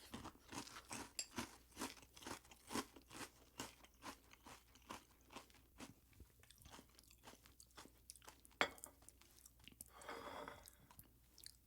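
Close, quiet crunching and chewing of crunchy Cap'n Crunch Halloween Crunch corn cereal, a steady rhythm of crisp bites with brief pauses, alone without talk.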